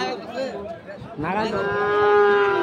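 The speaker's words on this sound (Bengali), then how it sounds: "দেখছিলেন কিভাবে গরু বের হচ্ছে আজকে" Sahiwal cattle at a busy livestock market give a loud, drawn-out moo close by, with crowd chatter in the background.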